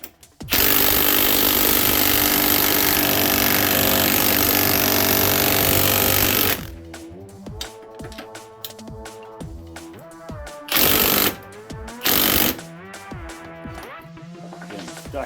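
A Ryobi One+ HP cordless impact wrench hammers at a stuck bolt in a long, loud, continuous burst, then falls silent before a few shorter rattling bursts follow, close up.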